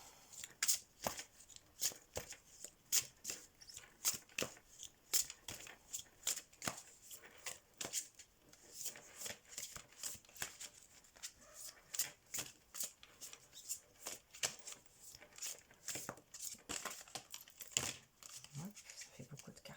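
Tarot cards being shuffled over and over in a steady run of crisp, close riffling snaps that fill the whole stretch, with no talk.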